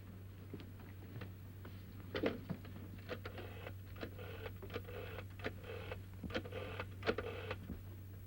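An old rotary telephone in a 1930s London setting is dialed, giving a series of short mechanical clicks and whirring bursts in irregular groups over a steady low electrical hum.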